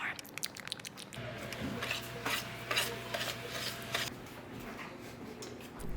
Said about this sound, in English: Finally, add in your melted butter and stir the mixture.